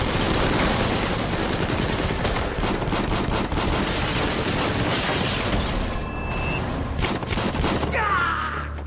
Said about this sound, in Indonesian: Sementara itu Sena juga beraksi memakai shotgun